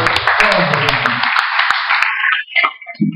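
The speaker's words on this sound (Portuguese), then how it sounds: "Aplauda o Senhor." Congregation in a church applauding together, a dense wash of many hands clapping that fades out after about two seconds, followed by a few scattered claps and a short voice.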